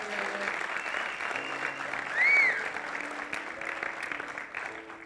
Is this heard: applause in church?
yes